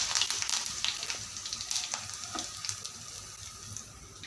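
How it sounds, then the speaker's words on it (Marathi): Mustard seeds, cumin and curry leaves sizzle and crackle steadily in hot oil for stuffed brinjal, with sharp popping spits over a continuous frying hiss, close and loud, no talking. "तेलामध्ये मी आता मोहरी घातलेली आहे त्यामध्ये थोडे जिरे घातलेले आहे कडीपत्ता घातलेला आहे"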